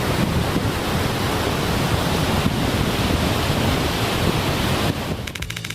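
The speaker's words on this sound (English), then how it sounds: "When else can you stand next to a dam or ride over it during a water discharge?" Water roars through a dam discharge as a loud, constant, close rush of broadband noise, thinning slightly just before the end.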